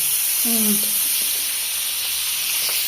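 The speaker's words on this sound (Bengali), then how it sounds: "যেমন মাছ ভেজে নিচ্ছে, লেগও দিয়ে দিচ্ছি।" Fish frying in hot oil in a Bengali village kitchen gives a steady, close sizzling hiss that runs through the whole clip, with a few brief soft knocks and stirring sounds near the start.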